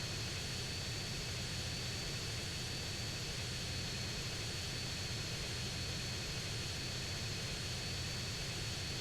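Steady airplane engine drone in Grand Theft Auto: San Andreas, a constant broadband roar holding evenly throughout at moderate loudness with no breaks.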